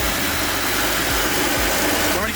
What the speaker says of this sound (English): That sounds like a Pajero that started to me.